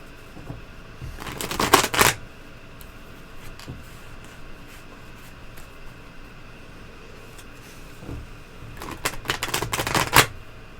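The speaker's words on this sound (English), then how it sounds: "I'm going to give it one more shuffle." Two separate bursts of tarot cards being shuffled, each a quick riffling rush lasting about a second, up close against a quiet room with long stillness between them.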